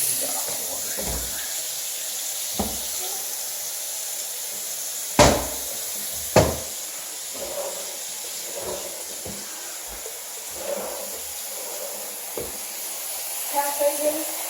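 Hot water runs from a sink tap in a house as a steady hiss, with a few knocks and clunks over it and people talking faintly in the background.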